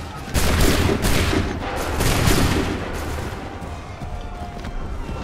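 A ragged musket volley in the video game Assassin's Creed 3: many loud, close shots crack together, then continuous gunfire and booming reports roll on behind them.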